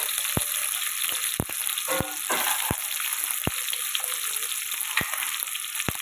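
Onions fry with salt in a pan for gutti vankaya curry, a steady close sizzle with crackling pops and the occasional clink of a spoon stirring, no talking.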